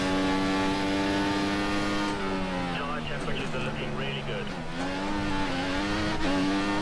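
F1 race car engine in F1 2014 held at full throttle, a loud sustained high-pitched whine with steady harmonics that dips briefly and climbs again, running under someone talking.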